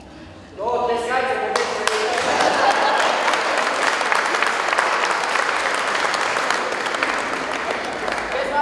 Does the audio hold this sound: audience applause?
yes